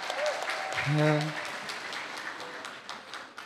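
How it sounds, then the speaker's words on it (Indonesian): Audience applause at a campus geopolitics seminar, a moderate wash of clapping that runs under brief speech and then fades. "Tepuk tangan sekali lagi untuk pembicara-pembicara kita."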